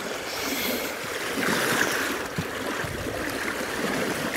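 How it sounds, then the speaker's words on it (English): Fast, strong river current in winter, a steady broadband rush of flowing water that stays close and even throughout with no talking. "Water's fast as well, as you can probably hear."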